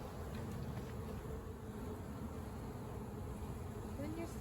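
A honey bee swarm being gathered into a hive hums steadily and calmly, a dense, even drone of many wings close by, holding at a constant level without rising agitation.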